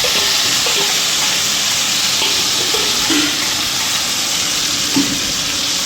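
Meat sizzles loudly in hot oil with garam masala in a pot for biryani, a steady close frying hiss broken by a few soft stirring scrapes, with no voices.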